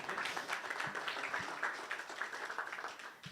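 Audience applause at a design systems meetup, fairly quiet and distant, a steady patter of many hands with little voice mixed in.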